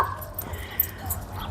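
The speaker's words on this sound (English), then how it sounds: "little puppy over there." Somewhere off to the side, a small puppy gives faint yips and whimpers, sounding at a moderate distance amid light room noise.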